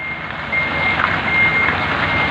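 A 22-wheel truck backs up while its reversing alarm sounds, a steady tonal beep held over a broad, continuous engine and road rumble, fairly loud and close with no talk.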